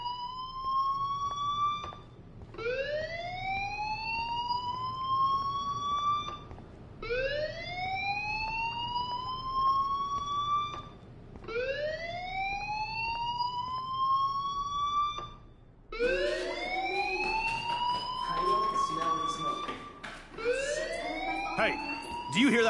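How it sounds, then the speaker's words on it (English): School fire alarm in the Life is Strange video game, wailing in loud upward sweeps that repeat roughly every four seconds, growing denser and more layered near the end. "Hey, do you hear that fire alarm?"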